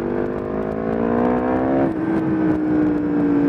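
A 2016 Yamaha MT-10 motorcycle with a full Akrapovič exhaust revs loudly nearby, its engine pitch climbing steadily and then holding a high, sustained drone.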